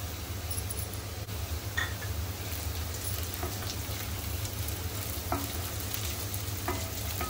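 Onion and green chillies frying in a pan for a dry shrimp dish, a steady crackling sizzle with occasional stirring scrapes, close and even, no talking.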